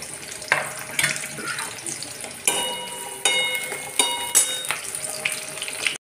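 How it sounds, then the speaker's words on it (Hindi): Onions fry in hot oil for tomato biryani with a close, bubbling sizzle, stirred now and then so the hiss swells in short bursts; no one speaks. "तेल गर्म हो चुका है, उसमें ये प्याज लाल होने तक पकाइए।"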